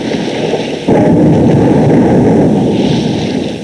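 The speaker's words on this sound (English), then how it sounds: "they heard a rumbling like distant thunder" A deep thunderous rumble of huge clashing rocks swells suddenly after a quieter roar and holds steady and loud, like a continuous storm-like roar with no voices.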